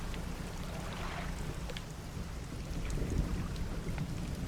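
Rain and a low thunder rumble in the video game Dredge, steady pattering rain over a deep rolling rumble that swells slightly toward the end, with no voices.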